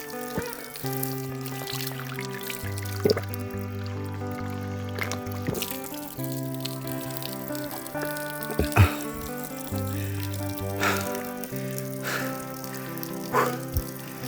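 Cold mountain spring water runs and trickles steadily at a rural sitio, a continuous gentle flow with occasional splashes, faint and close.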